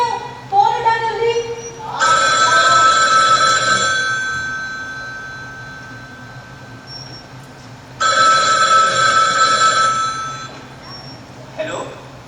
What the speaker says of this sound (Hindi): फोन उठा जल्दी